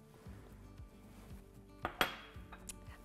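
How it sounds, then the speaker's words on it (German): Cooked eggplant being mashed with a spatula in a pan for vegan moussaka, soft repeated scraping and squishing with a couple of sharper metallic clinks of the spatula against the pan. "die zerdrücke ich jetzt noch ein wenig mit dem Pfannenheber"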